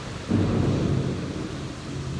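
A heavy thunderstorm with strong rain: a loud deep rumble of thunder rolls in over a steady, dense roar of rain, filling the whole short stretch with no voices.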